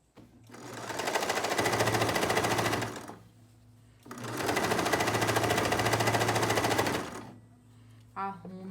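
Two long bursts of a sewing machine running fast and loud while stitching a fabric cover for a kitchen stove, separated by a short pause, ending with faint clicks.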